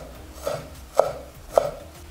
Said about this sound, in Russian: Нарезаю мелко.